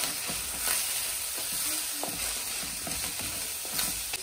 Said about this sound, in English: So I'm just going to give this a stir.